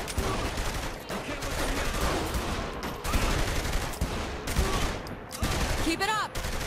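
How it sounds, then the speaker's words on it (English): Sustained gunfire in the Saints Row: The Third video game, a dense, loud barrage of rapid overlapping shots that runs almost unbroken through the clip with only brief dips. "Shooting them probably doesn't help change their minds."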